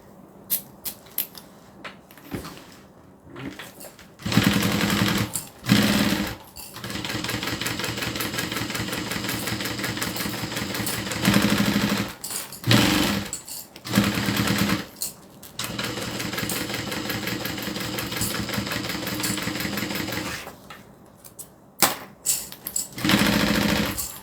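A sewing machine stitches binding onto a pot holder in several bursts of rapid mechanical whirring, separated by short pauses and small handling clicks, close and fairly loud.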